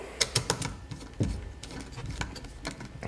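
Small mechanical clicks and ticks as screws are snugged up on a CineStar 3-axis camera gimbal, a few sharp close taps early on, then softer scattered clicking with no talk.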